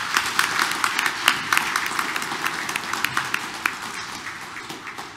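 A congregation at a Korean Catholic church mass breaks into applause, a sustained patter of many hands clapping indoors that gradually thins out toward the end.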